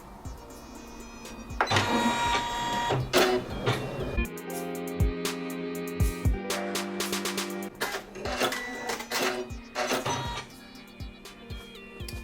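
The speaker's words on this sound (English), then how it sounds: "I'm just going to put my hoop on the machine, and then we can start stitching." Janome 550E embroidery machine running a placement stitch on stabilizer, a busy mechanical whirring with rapid needle ticking and intermittent clunks and motor whines, close-up and moderately loud.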